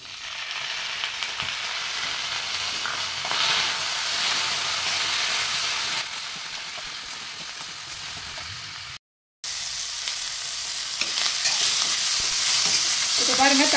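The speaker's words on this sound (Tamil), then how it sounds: "இப்போ நம்ம அறுத்து வச்ச தக்காளி இதோடு சேர்த்து வதக்கலாம்" Tomato and onion sauté in a clay pot with curry leaves, a steady loud sizzle with stirring scrapes running throughout, briefly cut off partway and then resuming even stronger.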